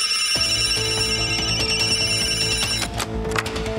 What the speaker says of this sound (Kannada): ಅಯ್ಯೋ, ಫೋನ್ ಐತಿ ಸರ್.